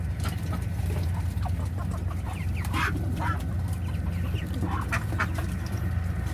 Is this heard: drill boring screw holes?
no